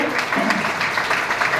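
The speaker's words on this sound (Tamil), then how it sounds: "உங்கள் பலத்த கரகோஷத்துடன்" Loud audience applause at an installation ceremony, a dense, sustained burst of many people clapping close by, filling the moment with steady rattling claps and a hint of voice underneath.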